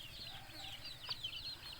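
Chickens in a backyard coop cluck softly at a distance, with a steady chatter of small calls and a faint background hum.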